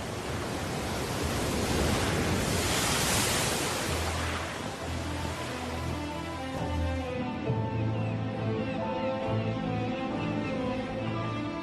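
Rough North Sea surf off Helgoland, a steady broadband wash of breaking waves rolling on without pause at a fairly loud, constant level, with no voices.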